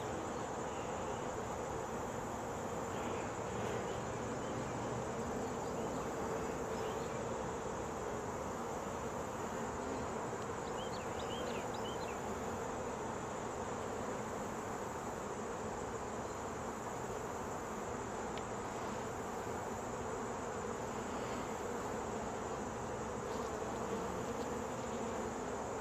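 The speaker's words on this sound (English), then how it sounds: "There's a lot of bees," A dense, steady hum of many honey bees buzzing together at a hive, close and continuous throughout, with no voices.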